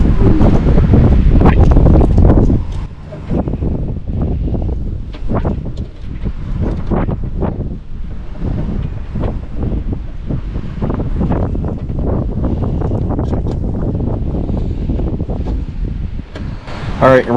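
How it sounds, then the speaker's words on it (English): Strong gusts buffet an outdoor microphone beside a Squarebody truck, producing loud low rumbling and rustling that swells heavily at first, then settles into steady choppy turbulence for the rest of the stretch. "sorry about the wind."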